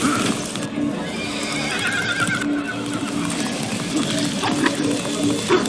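A horse in the Castlevania video game neighs and whinnies while its hooves clip-clop steadily underneath, loud and close, with game ambience running throughout.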